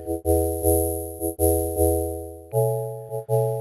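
Serum synth keys in a future bass and RnB style, with exaggerated downsampling distortion giving a gritty, buzzy edge, play a steady rhythmic pattern of chords with sharp attacks, then shift to a new chord partway through, loud and up close.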